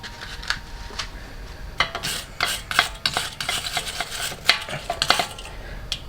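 A large wire brush scrubs rust off a Chevy Blazer wheel hub in quick, uneven scraping strokes, close up and fairly loud, with no voices.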